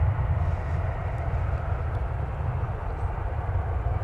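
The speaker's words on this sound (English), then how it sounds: "Oh, we got some propeller action here." A propeller aircraft at DFW airport on a Thursday night gives off a steady, loud, deep engine drone that holds even throughout, with no voices over it.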